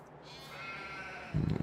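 Sheep bleating in a pen in the Farming Simulator 22 video game, a single clear wavering bleat up close, followed by a brief low thump at the end.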